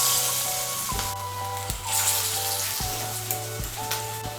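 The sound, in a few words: frying pointed gourd fritters in hot oil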